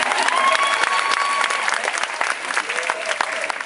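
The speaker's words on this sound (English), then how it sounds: "You don't need to clap, that's fine." Brief clapping from an audience at a cooking demonstration aboard a cruise ship, dense applause that softens toward the end, with a voice and a faint tone over it.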